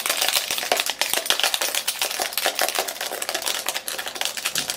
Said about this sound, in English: just shake things up with these keys on this phone